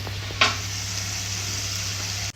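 Goat leg mutton paya frying in masala, a steady close sizzle with a sharp scrape of stirring near the start, continuing without speech.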